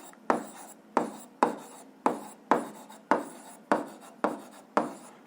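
A pen or chalk writes out the law of conservation of energy, a regular series of about nine scratchy strokes, each starting with a tap and fading quickly.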